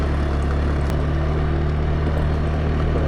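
Single-rider habal-habal motorcycle taxi ride on a rural mountain road near Buda, a steady close engine drone with a low hum and wind rush, continuous with no talking.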